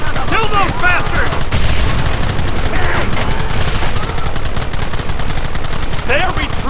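Heavy gunfire from a Red Dead Redemption shootout, multiple guns firing continuously and loudly throughout, with shouting voices and yells mixed in over the barrage.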